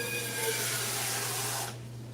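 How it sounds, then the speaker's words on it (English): Water is poured from a cup into a mixing bowl, a steady close rushing hiss for about two seconds that cuts off abruptly, leaving faint room hum. "mixing bowl right here, we're just gonna add some water to it."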